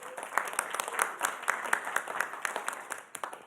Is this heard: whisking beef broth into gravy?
no